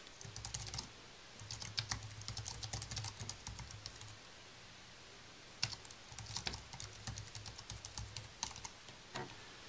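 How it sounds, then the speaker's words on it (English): Typing on an Apple USB keyboard connected to an iPad, a soft, close run of quick key clicks in bursts with brief pauses. "Let's see if we can type."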